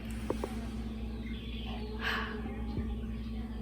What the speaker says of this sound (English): It's the most exciting thing to hear birds again outside.